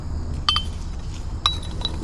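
An old shot glass dug from a ghost town bottle dump clinks twice, each a bright, close ringing tap with a short fading tone, the second strike followed by a faint lighter touch.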